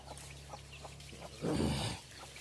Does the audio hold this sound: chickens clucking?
yes